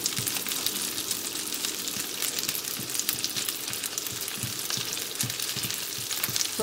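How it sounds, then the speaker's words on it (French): Vegetables fry in butter in a pan for pot-au-feu, giving a steady close sizzle with crackling pops throughout. Light stirring scrapes sound now and then, and no one speaks. "Je roule bien dans le beurre"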